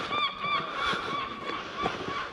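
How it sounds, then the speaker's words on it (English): Seagulls calling on the St Andrews golf links during the 150th Open, loud repeated honking cries close by, several birds overlapping in steady succession. "The seagulls are singing in St Andrews today."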